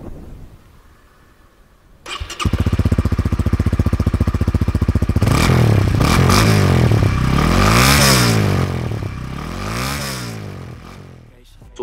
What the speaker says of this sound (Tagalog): Sa sub 200cc category, this bike has one of the best sounding stock exhaust.